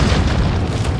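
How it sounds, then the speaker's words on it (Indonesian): A bowgun bolt blows up in Resident Evil 4, a loud, dense booming explosion filling the full second with sustained low-end rumble. "Bowgunnya meledak ya"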